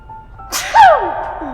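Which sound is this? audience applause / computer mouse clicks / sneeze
sneeze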